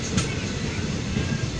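A moving passenger train rolls on, its steady broadband rumble and low rattling loud and continuous throughout, with faint clicking on the rails and no clear talk.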